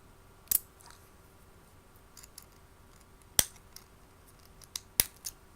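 Small scissors snipping silica or cotton wick on a rebuilt vape coil: a few crisp, close clicks spaced seconds apart against a quiet background.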